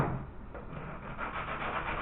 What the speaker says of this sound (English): So I'm just taking some of the material off by sanding it